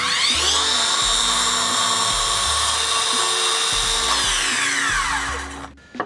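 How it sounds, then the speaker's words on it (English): A Makita 40V 8-1/2 inch cordless miter saw spins up with a loud, steady high whine through a bevel cut in wood, then winds down near the end. "let's try a bevel cut"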